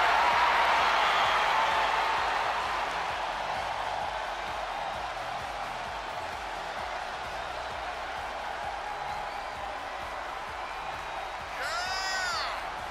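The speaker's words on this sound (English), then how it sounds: "Listen to that crowd!" Arena crowd in the WWE 2K24 video game during a Liv Morgan versus Tiffany Stratton Women's World Championship match, a steady roaring wash of cheering that is loudest at the start and then holds level, with a brief whistle near the end.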